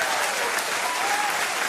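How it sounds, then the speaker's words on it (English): Dense, steady clapping from a crowd fills the clip, loud and continuous without pause. "Big round of applause for you guys."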